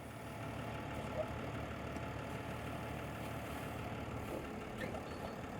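A Peterbilt 220 truck fitted with a Palfinger hook lift runs steadily as its jib extends outward, a continuous low engine and hydraulic drone with faint beeping, no voices.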